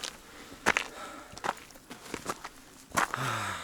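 Footsteps climb a rocky mountain trail toward the Karb pass below Kościelec in the Tatras, uneven crunching steps at an irregular pace, fairly faint and close, with outdoor background around them.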